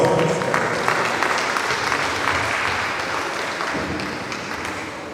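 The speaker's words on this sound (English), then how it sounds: "A round of applause for him, please." Audience applause at an orientation workshop for newly recruited university staff, greeting the branch chairperson after a welcome address; steady, dense clapping holds for about five seconds and slowly fades, with no talk over it.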